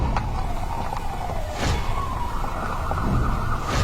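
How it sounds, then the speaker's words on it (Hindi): Ambulance siren with a rising and falling tone wailing steadily under a car engine's rumble, moderately loud and continuous, with no talking. "एम्बुलेंस बुला जल्दी।"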